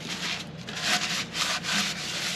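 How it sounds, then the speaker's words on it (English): A cloth wipes dust off the neck of a concert ukulele kit build, making steady, close, fairly loud rubbing strokes in several back-and-forth passes. "And I'm wiping all the dust off."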